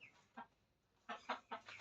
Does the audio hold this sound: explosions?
no